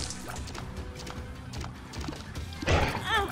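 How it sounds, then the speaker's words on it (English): Death's horse from The Binding of Isaac: Rebirth clip-clops in game audio, with a short whinny and crashing hit near the end over a low background. "Get rid of Death's horse."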